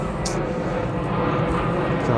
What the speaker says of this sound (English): Sorry for the noise, but what do you expect, right? We're outside. You're going to get planes, and there's an airport fairly close by